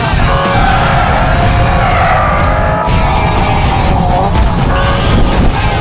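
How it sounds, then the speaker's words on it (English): A loud Hyundai Ioniq 5 N roars steadily at close range while revving and engine braking, with faint pops and crackles in the exhaust. "Was that the actual engine braking?"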